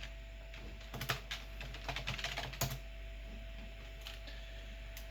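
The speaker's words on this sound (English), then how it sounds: "keyboard." A Tandy computer keyboard is typed on in quick bursts of sharp, close clicks that come in clusters over a faint steady electrical hum.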